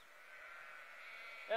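A sheep bleats in one long, drawn-out wavering cry on a farm, clear and close, ending in a brief sharper noise.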